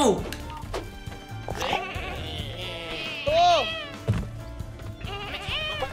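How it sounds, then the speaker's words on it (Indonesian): A brown sheep in the video game Lumberhill gives a series of wavering bleats, some sharp and rising, amid dense game music and effects, with a voice talking over parts of it. "Domba coklat gue lempar, Bos."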